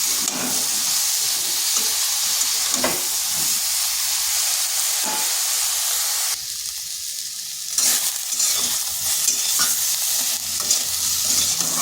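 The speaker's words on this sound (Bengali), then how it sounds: "এরপর মিডিয়াম আজে বেগুনটাকে ভাজা ভাজা করে নিচ্ছি" Brinjal pieces with turmeric and salt sizzle steadily in hot oil in a pan over medium heat, with a continuous frying hiss broken by scraping stirs close by.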